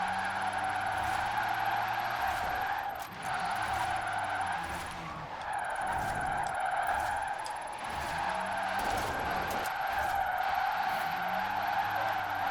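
An electric drift car in Forza Horizon 4 slides continuously, with sustained tire screeching and a steady high electric motor whine throughout, the squeal swelling and dipping as the car drifts.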